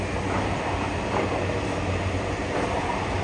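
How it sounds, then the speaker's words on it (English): Steady rumble and roar of a train rolling by nearby in Tokyo between Futako-Tamagawa and Sakura-Shinmachi, continuous broadband noise with a low drone and no pauses. "And here's the Intosha line train passing."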